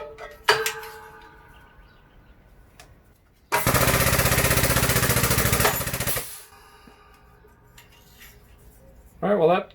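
An Edwards Multi Shear mounted on a Harbor Freight 20 ton shop press cuts a flat aluminum bar about 1/8 inch thick, giving a loud, sustained grinding crunch lasting a few seconds, with clicks before and a squeal after.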